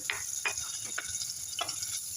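Quiet sizzling of garlic frying in oil, with a few scraping stirs at irregular intervals.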